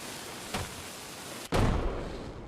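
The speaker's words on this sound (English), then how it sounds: "I think this is like fireworks." Fireworks go off on a PUBG Mobile map: two sharp, booming bursts about a second apart, the second louder and followed by a lingering crackle and rumble.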